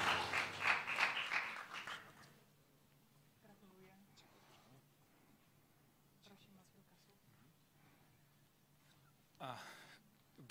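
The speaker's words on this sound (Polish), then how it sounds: "Wielkie brawa." Audience applauding a professor receiving an award at a regional awards gala. Loud clapping fills the first two seconds, then fades into quiet room noise with faint voices, and a short burst returns near the end.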